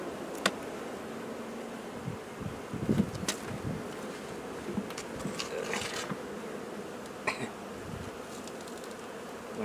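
Bees swarm and hum steadily around an opened beehive, a dense close buzz with occasional louder passes near the listener and faint rustling, no voices.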